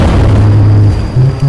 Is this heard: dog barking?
no